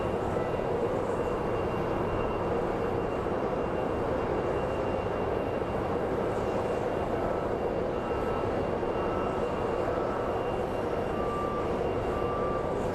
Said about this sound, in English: And then we have the special banana plane coming in.